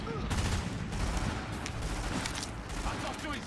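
Gunfire in the video game The Division, a dense, steady crackle of rapid shots with scattered louder bursts, continuous throughout at moderate loudness.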